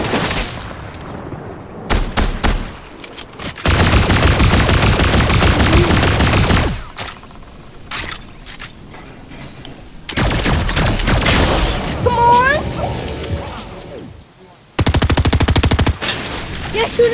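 Gunfire in a Fortnite trios match: loud close bursts of rapid automatic fire and sharper single cracks come in several long volleys separated by quieter gaps, with players talking in between.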